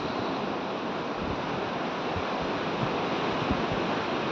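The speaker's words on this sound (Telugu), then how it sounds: "అందమైన లొకేషన్ గోవా బాగా బీచ్." Surf washes steadily onto Baga Beach in Goa on a quiet morning, a constant broad roar of waves breaking close by with a soft rumble underneath and no voices.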